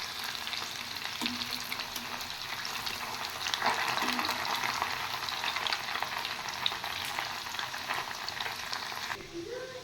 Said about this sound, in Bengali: এবার আমি তেল বসিয়ে দিয়েছি, গরম হয়ে গেছে। এবার আমি একটা একটা করে এগুলো ভেজে নেব।